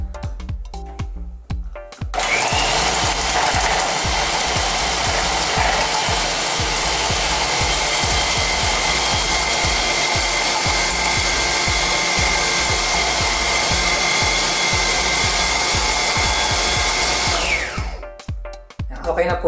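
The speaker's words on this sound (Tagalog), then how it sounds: "nilagay ko na yung ating dory fish sa food processor kasama nung garlic at onion. So i-blend na natin siya para maging paste." A food processor runs loud and steady for about fifteen seconds, blending dory fish with garlic and onion into a paste; it starts abruptly and winds down at the end, and the surroundings are quiet before and after.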